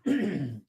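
A single short throat clearing, close and fairly loud, lasting just over half a second with no talk around it.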